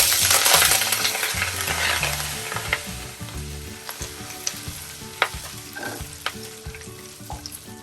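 Curry leaves crackle and sizzle in hot oil with dry red chilies, loud broadband frying that spits hard at first and then settles, with sharp pops and the light clinks of a utensil scattered throughout.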